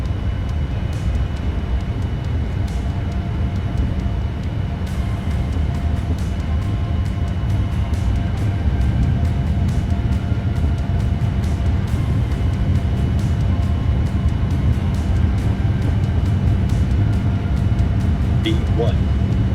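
A Boeing 787-9 in a Prepar3D flight simulator runs its jet engines at takeoff thrust down the runway, producing a loud, steady roar with a broad rumble underneath.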